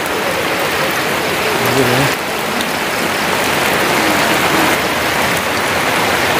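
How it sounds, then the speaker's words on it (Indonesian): Steady, heavy rain falls on a garden plot after a night-long downpour, a dense, even hiss of drops that continues without a break throughout. "Ternyata hujannya itu dari itu semalaman sampai sekarang masih hujan itu."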